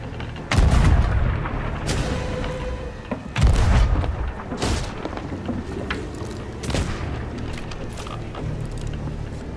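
Ship cannons fire at the kraken in the Sea of Thieves video game: several heavy booms at irregular intervals, each loud and close with a rumbling tail, over a continuous background of ocean and game noise.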